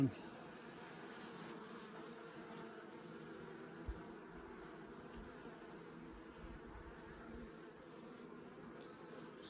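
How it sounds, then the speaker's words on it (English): Bees buzzing around a beehive during a winter inspection, a continuous soft drone from many insects, steady and low in level throughout with no talking. "See the bees on the wall of that other hive?"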